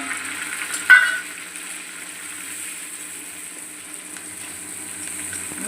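Homemade spices and fresh coriander sizzle steadily in hot oil, a soft continuous fry with one brief clatter near the start, close and even throughout.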